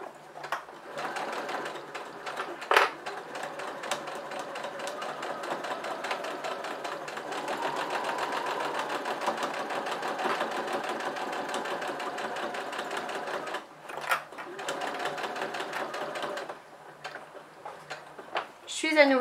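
A sewing machine stitches a fabric napkin holder, running steadily for about thirteen seconds, then stopping and restarting in short bursts with light taps between. A person talks over the machine.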